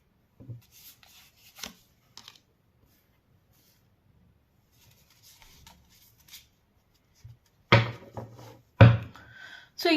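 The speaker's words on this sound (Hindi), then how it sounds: "कार्ड्स निकाल लेती हूँ" Tarot cards are shuffled and drawn by hand. Faint scattered taps and handling lead to two short, crisp riffling bursts near the end, close and fairly quiet, with no talking.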